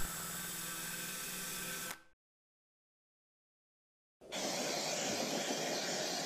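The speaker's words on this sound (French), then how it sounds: "perce et enlève la plaquette où était vissé le logo" A steady, loud power-tool whine runs while drilling out a metal logo plate on a café racer motorcycle tank, stops for about two seconds of silence, then starts again with a harsher grinding hiss.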